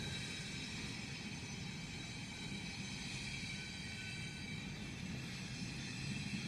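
A train rolls by in a steady, loud rumble with a continuous wash of mechanical noise that holds level throughout.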